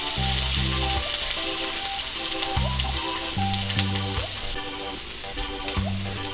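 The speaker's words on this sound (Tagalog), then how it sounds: "Ngayon po ay maglalagay na po tayo ng cooking oil. Ilalagay na natin ang bawang." Garlic frying in hot cooking oil with a loud, continuous, close sizzle and crackle, held steady throughout without pause and with no talking.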